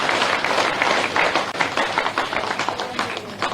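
A crowd at a BJP gathering in a Bhopal party office claps to welcome a leader, dense, steady applause carrying on without a break.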